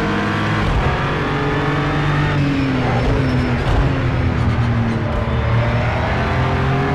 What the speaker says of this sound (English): So that's one of the open cockpit LMP2s.